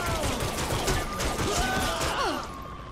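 Gunfire in the video game Saints Row: The Third, a dense rattle of rapid shots and mechanical clatter with sweeping tonal game effects, loud and continuous before tapering at the end.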